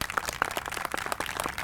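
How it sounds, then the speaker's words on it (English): Applause from an audience at a groundbreaking ceremony for a county District 3 office, a steady patter of many hands clapping at moderate distance, continuous for the whole moment. "give everybody a round of applause from South County for being champions for your community"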